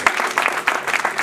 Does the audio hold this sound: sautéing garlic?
no